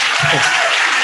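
Audience applause fills the room at the Food & the Wisconsin Idea conference in 2018: steady, dense clapping from a crowd, loud and continuous throughout.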